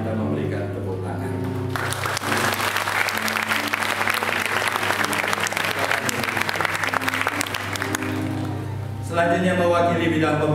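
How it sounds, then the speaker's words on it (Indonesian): Church congregation claps loudly and continuously for about seven seconds during a church anniversary appreciation service, with music and a sustained low hum underneath; the applause fades out near the end as music continues. "kita memberikan tepuk tangan."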